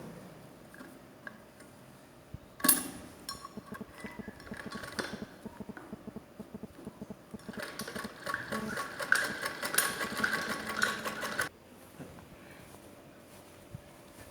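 A sewing machine stitches the skirt pieces of a baby frock onto the bodice, running in bursts of rapid mechanical ticking with a louder continuous stretch in the middle, close and alone with no talk.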